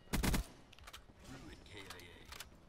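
VMP submachine gun in Call of Duty Black Ops 3 firing a short, fast burst of close, sharp shots, followed by a few scattered quieter shots and mechanical clicks while a person speaks.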